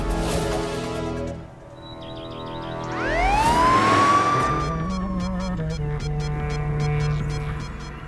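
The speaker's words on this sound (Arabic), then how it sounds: "الشرطة جاية" A police siren wails up loudly over a steady vehicle rumble, its rising and falling tone swelling as it approaches and then holding strong.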